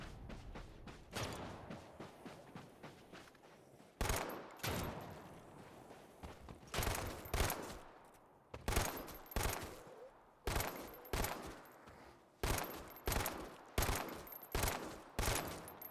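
Sharp gunshots ring out in the Dead Island 2 video game, single and paired blasts spaced unevenly across the span, each with a decaying tail, loud against a quieter ambient bed.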